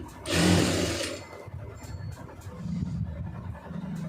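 A sewing machine briefly stitches folded blouse neck pieces, a short loud whir of under a second followed by quieter cloth handling and low background hum, close by and without speech.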